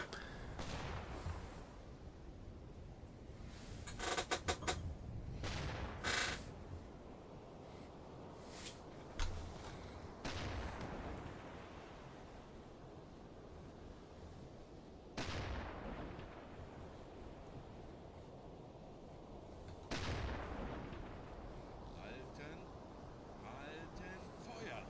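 Gunfire from a World War II U-boat battle in the UBOAT video game: repeated heavy booming bursts and crackling volleys at irregular intervals over a low rumbling engine background, loud and close, with voices talking throughout.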